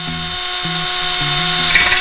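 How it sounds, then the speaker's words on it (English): A power drill bores through a motorcycle rim to fit a rim lock for an enduro tubeless setup. It whines steadily at close range, with the pitch stepping as the load shifts, and no talk is heard. "let's get her drilled up"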